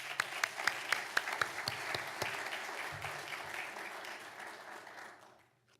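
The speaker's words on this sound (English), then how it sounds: "may we all just wish her congratulations on her new adventure with a round of applause for her work" Applause from the audience in a city council chamber, a burst of scattered, fairly distant clapping that thins out and fades over several seconds, with no talking.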